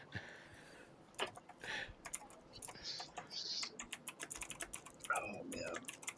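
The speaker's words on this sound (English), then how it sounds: "Shannon's typing" A person types on a computer keyboard during a casual live stream, with quick, irregular clicks and taps close by, rising to busy bursts of keystrokes over faint background noise.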